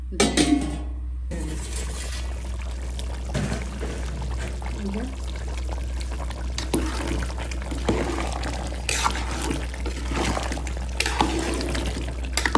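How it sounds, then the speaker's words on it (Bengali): Beef curry is poured from one pot into another, giving a thick wet slosh and liquid pouring over a steady low hum, with occasional clinks of metal pots close by. "এটার থেকে ঢেলে ফেলছি আরেকটা পাতিলে, একসাথে কষিয়ে নেব।"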